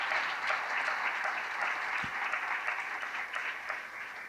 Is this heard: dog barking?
no